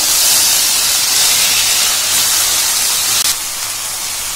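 Small cleaned chicken pieces hitting a pan of frying onions for a pallipalayam chicken fry, a loud, steady hissing sizzle that holds throughout and eases slightly near the end, with no voices.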